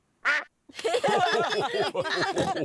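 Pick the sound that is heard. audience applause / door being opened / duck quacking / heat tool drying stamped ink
duck quacking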